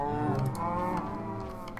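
A cow in Minecraft gives one long, low, wavering moo, close and clear with nothing else around it.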